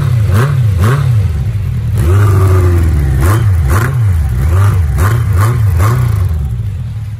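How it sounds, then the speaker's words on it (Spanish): A Yamaha XJR 1300 Cafe Racer motorcycle, just after a cold start with a slightly low idle, gets short repeated throttle blips, its deep engine note rising and falling in a steady loud rhythm with no talking. "Pequeños acelerones para que espabile."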